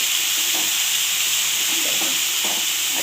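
Garlic fries in a pan with a constant bright hiss of sizzling oil, punctuated by a few soft stirring scrapes, close and steady with no talk.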